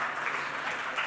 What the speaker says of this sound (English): You can still clap.